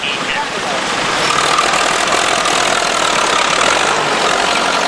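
A 1975 David Brown 885 three-cylinder tractor engine runs steadily at a rally, a loud, continuous mid-range chug with a rough knocking texture and no letup, with speech faintly present.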